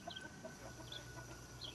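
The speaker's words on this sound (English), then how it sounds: "She chasing the chickens." Chickens cluck and squawk in scattered bursts while being chased around a homestead yard, faint and somewhat distant over a steady outdoor hiss.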